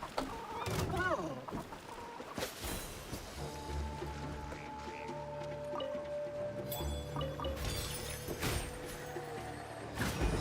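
A turkey-like bird creature in the Genshin Impact video game gives repeated gobbling, clucking calls in bursts, mixed with game effects and occasional voices.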